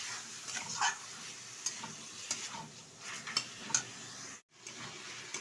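Mutton cooked with its fat, stirred in a sizzling pan for ghee mutton: soft frying crackle throughout with occasional light scrapes and clicks of the spoon, close and fairly quiet, one brief dropout near the end.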